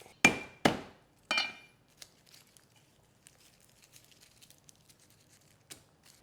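Garlic cloves being roughly chopped with a knife on a board, three sharp loud close chops at the start followed by faint scattered taps and small knocks.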